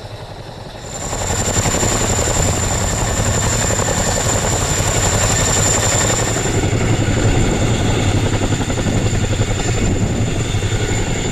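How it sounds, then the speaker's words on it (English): A Boeing CH-47D Chinook helicopter training takeoffs and landings on a slope, its rotors producing a loud, continuous, rhythmic thudding roar with a high whine, steady and close throughout. "The D664 Boeing CH-47D conducts gradient operations training on EHGR's southern slope, simulating challenging takeoff and landing scenarios."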